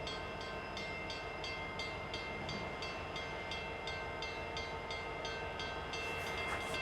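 A stationary train idles at the Hoosac Tunnel East Portal, humming and rumbling steadily, with a rapid mechanical ticking pulse and a faint higher tone near the end.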